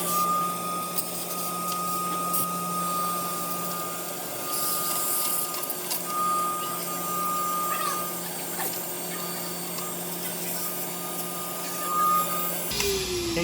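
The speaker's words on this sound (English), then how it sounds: "you basically just turn on your vacuum and just get all the little bits of toner that are in here" A vacuum cleaner runs inside a Xerox Versant printer to suck up loose toner, a steady whining hum with a faint high tone and occasional scraping bumps of the nozzle, ending with a brief thud.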